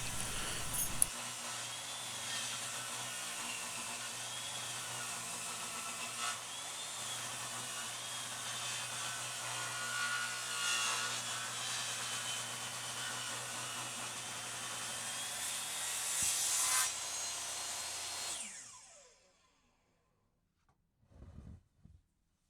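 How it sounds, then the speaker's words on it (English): A power saw resawing mahogany planks, a loud continuous high whine for about eighteen seconds that then spins down and stops, followed by a few faint knocks. "Here I have to resaw the mahogany planks that I cut earlier to get them down near their final dimension"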